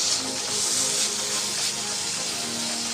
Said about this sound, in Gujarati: અને પાણી નાખીશું.